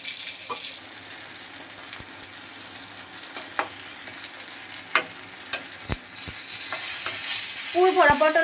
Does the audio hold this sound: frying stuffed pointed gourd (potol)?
yes